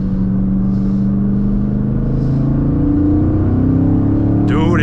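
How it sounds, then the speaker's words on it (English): A fifth-generation Camaro Z/28 engine roars loud and steady in a third gear pull, pitch rising gradually under hard acceleration, with a brief faint voice near the end. "Let's do a nice little third gear pull."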